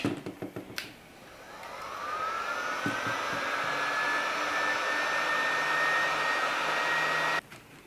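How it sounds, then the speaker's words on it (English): A hot air gun blows a steady, loud rushing whir with a rising whine as it spins up, heating a solder joint on a leak detection wire; a few handling clicks come before it, and it cuts off near the end. "using a hot air gun, put a bit of heat on there"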